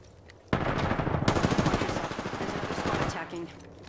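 Apex Legends gunfire erupts suddenly after a quiet start, then keeps going as a loud, rapid stream of shots for about two and a half seconds before cutting off, leaving faint game sounds.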